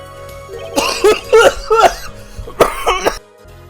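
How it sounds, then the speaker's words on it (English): A burst of several harsh, hacking coughs in quick succession, close and loud, followed by a short pause and one more forceful cough. "Cough so hard the frickin' audio disconnected"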